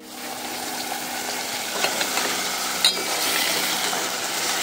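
Fish frying in a pan on a gas stove, with green chillies added, giving a steady close sizzle and hiss that runs throughout, broken by a few sharp crackles and small clatters.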